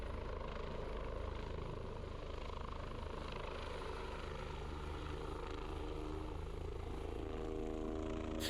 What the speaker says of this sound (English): at which point, while still climbing, the nose is lowered slightly and the helicopter flies away.